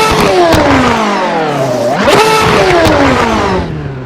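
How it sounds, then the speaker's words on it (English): A race car engine in Automobilista 2 revs loud and close, its pitch climbing and falling through sweeping revs with a rising whine that runs steadily for several seconds, heard on its own with no voices. "should we rev it up, guys?"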